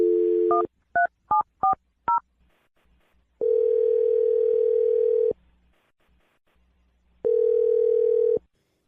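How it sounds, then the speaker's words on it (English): Telephone keypad tones beep in a quick run of about five short pulses, followed by two long, steady ringback tones separated by a pause, clear and isolated. "Okay, I'm going to dial Jake's phone number right now"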